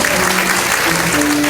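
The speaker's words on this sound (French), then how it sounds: "Applaudissements s'il vous plaît pour cette proposition nominale." Brief, steady applause from an audience at a floral fashion show as a dress is presented, a continuous wash of clapping with faint sustained tones beneath it.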